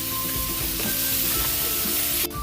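Macaroni poured into a hot, sizzling pot while cooking sopas, a loud continuous frying hiss with stirring clatter, ending in a sharp scrape, with no voices.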